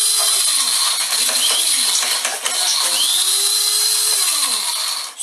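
A blender grinds walnuts for pesto and beet spread, its motor whining loudly and continuously while the pitch dips and rises several times as the nuts knock about inside.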